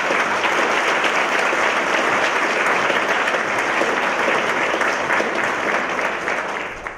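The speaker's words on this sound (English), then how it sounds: "So let's give another round of applause." Sustained, loud applause from an audience at an award luncheon, a dense wash of clapping lasting several seconds before starting to fade.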